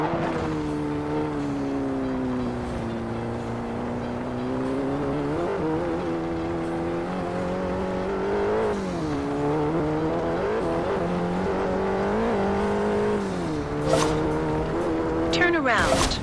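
A Ferrari 250 GT Berlinetta in the racing game Forza Horizon 2 drives with a continuous engine drone whose pitch rises and falls through gear changes, with brief tire squeal near the end.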